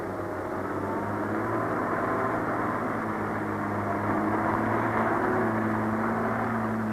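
A United States Air Force C-130 transport aircraft drones with a steady, broad engine roar, constant and moderately loud with no talk over it.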